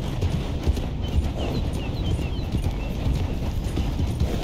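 Horse hooves clip-clop steadily at a riding pace in Red Dead Redemption 2, with a continuous rumble of movement underneath and faint chirping ambience, no talk.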